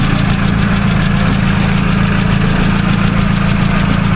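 A 1993 Nissan Tsuru's engine idling just after starting, a steady close low rumble with a faint uneven knocking pulse throughout.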